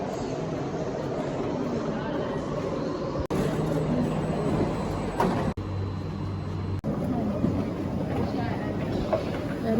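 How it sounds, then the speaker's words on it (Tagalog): A loud, steady rumbling roar of an MRT train pulling into a station, close by, with a few sharp clunks and a low hum partway through. "Nandiyan na yung MRT."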